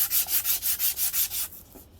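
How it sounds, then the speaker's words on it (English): Hand sanding with 240 grit emery cloth on a metal part, heard as seven quick, even back-and-forth rasping strokes close up, then fading into lighter, fainter rubbing. "I'm using emery cloth is what I'm using, 240 grit"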